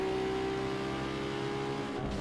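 Engines of an NSX and a GS roar continuously as the two cars race in Need For Speed Underground 2, a loud sustained drone with steady pitch and no speech.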